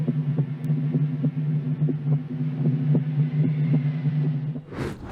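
A heartbeat sound effect in a Dracula film throbs in a steady, rhythmic low pulse over a continuous hum, ending with a brief noisy burst.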